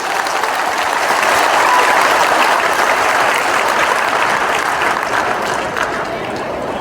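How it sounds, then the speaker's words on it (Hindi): Audience applause at a Samrat Ashok birth anniversary celebration in Patna, a loud, sustained wash of many hands clapping that fills the whole stretch and eases off slightly near the end. "तो एक जोरदार ताली आप लोगों की तरफ से होनी चाहिए।"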